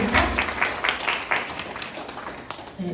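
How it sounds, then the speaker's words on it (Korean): Applause for a five-year employee at a company New Year ceremony and all-hands meeting: a crowd of staff clapping in a steady patter through the room, with some voice underneath near the end. "여러분 책임님께 뜨거운 박수 한번 다시 부탁드리겠습니다"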